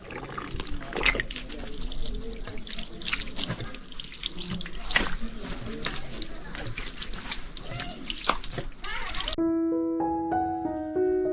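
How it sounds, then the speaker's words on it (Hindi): Hands and feet are washed under running tap water, a loud, steady gush with splashing and dripping close by, which stops abruptly near the end and gives way to a few clear tones. "यहाँ पर पहले हाथ पाँव को धो लेते हैं।"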